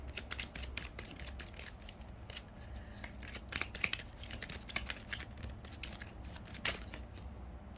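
Tarot cards are shuffled and drawn from a deck, giving a run of quick, close, crisp card riffles and papery flicks with a sharp snap or two, at low volume with no talking.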